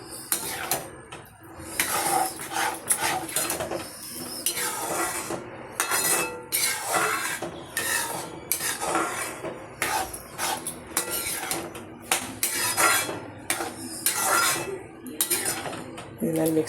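Spinach kootu is mixed with salt in a pot, giving a busy run of metallic scrapes, clinks and knocks of a spoon against the pot, close and fairly loud, with a voice now and then.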